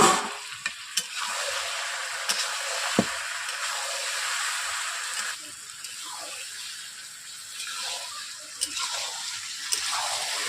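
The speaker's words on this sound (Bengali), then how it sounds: "এইভাবে আমি ঢেকে রেখে এইরকম প্রসেসে আমি মাংস রান্না করছি" Chicken curry simmering in a covered kadai gives a continuous soft sizzle and bubbling hiss, with occasional small clicks and knocks of the lid or utensil, steady and moderately quiet with no talking.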